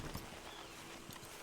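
Horse hooves clip-clop in the Red Dead Redemption 2 video game, a quiet, steady walking rhythm of soft hoof thuds heard over a constant background wash.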